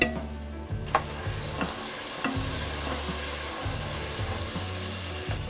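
Garlic sizzles in a pan as American goulash cooks, a moderate hiss with a low hum that drops out at intervals, while occasional clicks and taps of a utensil sound near the pan.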